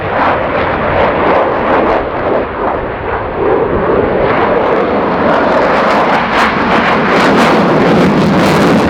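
A Sukhoi Su-35 jet fighter roars past at the RIAT 2019 airshow, a loud, continuous engine rumble and blast that swells with wind buffeting throughout, no voices.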